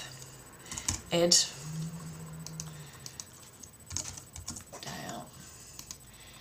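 Computer keys clatter in uneven, rapid bursts as someone types, with a short spoken name over the clicking and quieter tapping trailing off afterward.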